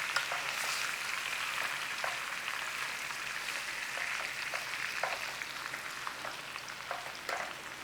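Beef searing in a hot pan, browning into a crust: a steady, bright sizzle and crackle, close and continuous, with small pops throughout.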